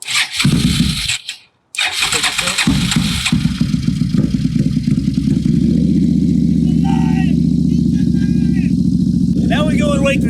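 A budget bobber motorcycle engine cranks, catches after a brief pause and settles into a loud, close, steady idle, with voices talking over it near the end.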